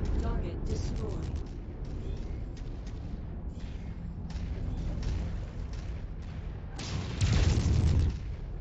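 Mech destroyed and exploding in MechWarrior 5: Mercenaries, a heavy boom bursting out near the end over continuous rumbling battle noise and repeated gunfire, with talk throughout.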